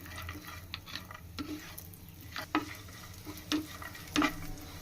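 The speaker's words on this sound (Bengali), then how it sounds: "এখন আমি ভিতরে বাদামগুলো দিয়ে দিয়ে দিয়েছি এখন একটু ভেজে নিব প্রথমে" Cashews, almonds and raisins fry in hot ghee with a soft, low sizzle, punctuated by a handful of sharp spatula scrapes and clinks against the pan.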